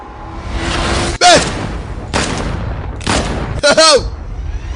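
Gunfire in a dubbed action film: a few sharp shots and heavy booms with whooshing tails break through a loud, continuous narrating voice speaking Kinyarwanda.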